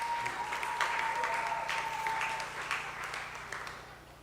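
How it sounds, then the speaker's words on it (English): Sustained applause from a crowd at a junior school graduation ceremony, a dense steady patter of clapping that fades slightly toward the end, with no talking over it. "a round of applause for Naraya."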